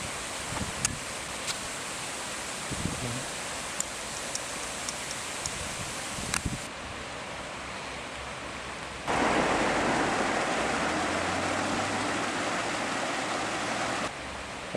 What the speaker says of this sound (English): Good running water.